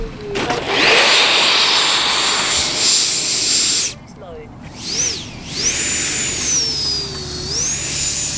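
A 90mm ducted-fan RC Eurofighter Typhoon jet makes a loud, close turbine whine and rushing hiss. After a brief dip the whine rises and falls in pitch as the throttle changes, continuing steadily to the end.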